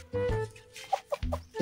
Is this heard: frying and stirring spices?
no